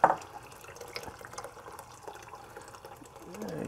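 Hot water running into a cooking pot for rice, a faint trickle with scattered drips and splashes and a louder splash at the start, growing slightly fuller toward the end.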